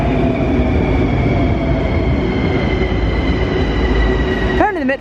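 A metro train in an old underground station built in 1979, loud steady rumbling and humming with tonal whine, ending in a sharp rising wheel squeal as it moves along the platform.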